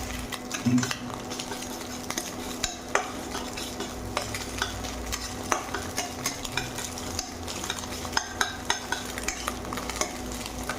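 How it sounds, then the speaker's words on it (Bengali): Egg frying in oil in a pan in a home kitchen, with a steady soft sizzle running throughout and frequent light scrapes and clicks of a spatula or utensil against the pan. "ডিমটা ভাজা হয়ে গেছে, এবার নামিয়ে নেবো।"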